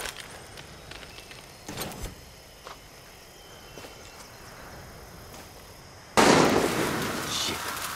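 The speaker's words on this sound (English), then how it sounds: "who's shooting?" Gunfire in the video game Far Cry 6, heard as a few sharp cracks early on, then a loud burst of shots near the end.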